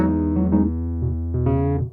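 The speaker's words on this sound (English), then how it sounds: "So let's start with a Whirly on its own." Clean Wurlitzer electric piano tones from a Nord Grand 2 stage piano, with no added effects, play a brief run of chords and notes. They sound warm and close, then fade at the end.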